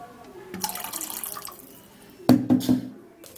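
Water poured into a bowl holding ginger in a kitchen, a few short splashing bursts close by, with quieter handling sounds before.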